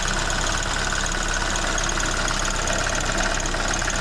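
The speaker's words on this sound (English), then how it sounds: "Dodgy fan going around." Engine of a fire-damaged 1969 Ford Escort MK1 van running steadily with a faulty fan spinning, a loud, dense, unbroken rumble and whir that stays even throughout.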